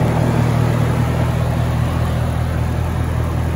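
A 2010 Cadillac CTS-V's supercharged V8 runs at a steady idle, its low rumble loud and constant without a break and no voices over it.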